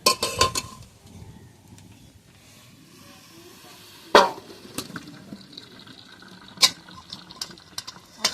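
Water is drained from a pot of boiled snails, with a soft trickle and hiss broken by several sharp metallic clinks and knocks of the pot.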